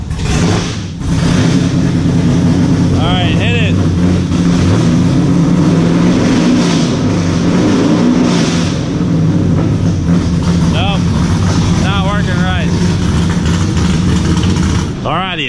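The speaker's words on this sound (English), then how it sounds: "should rev only to 1200 RPM is what I have it set at" The newly installed engine of someone's truck revving while the throttle is worked in neutral, a loud continuous roar that swells and holds throughout, with voices speaking over it in places.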